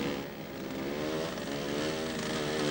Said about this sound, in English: His machine is a Bull Taco.